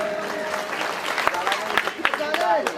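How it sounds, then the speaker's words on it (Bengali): Scattered clapping from an audience at a Golden Jubilee event rises unevenly over a few seconds, sharp individual claps poking through while a voice keeps speaking over it. "ওই জন্য জোরে হাততালি হয়ে যাক"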